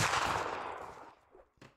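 Rifle volley from a Mount & Blade Warband battle, a dense crackling burst of many shots fired together that decays over about a second, followed by a couple of fainter distant reports.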